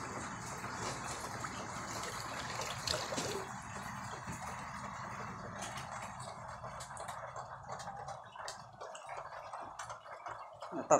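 Floodwater flowing and trickling inside a flooded house during a typhoon, a steady broadband rush of moving water with scattered drips and splashes, close and continuous throughout.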